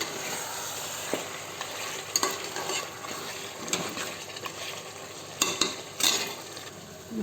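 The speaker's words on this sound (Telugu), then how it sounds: "ఒక ఐదు నిమిషాల పాటు బాగా కలుపుతూ ఉండాలి" Biryani ingredients stirred in homemade ghee in a cooking pot, a steady close sizzle with a spoon scraping and clinking against the metal at irregular moments throughout.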